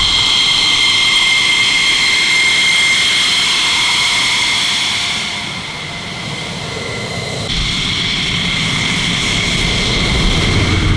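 Military aircraft taxiing to park in front of a hangar at an air base, a loud steady jet engine whine with high tonal bands that dips briefly then swells again, close and continuous with no talk.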